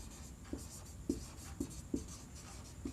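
Writing on a board during a classroom lecture on electric conduction: a steady run of short, scratchy strokes, about two per second, close and fairly quiet over a soft room hiss.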